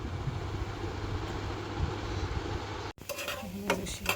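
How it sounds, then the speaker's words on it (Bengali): Dried fish (shutki) simmers in a cooking pot, with a steady bubbling, hissing boil running for a few seconds, then a sudden cut to clinks of a pot and utensils. "শুটকি রান্না করবো দেখে শুটকিটা আগে একটু সিদ্ধ করে নিতেছি"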